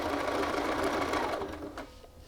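A sewing machine runs a quick back tack along a shirt yoke seam, a steady close mechanical whir for about two seconds before it slows and stops.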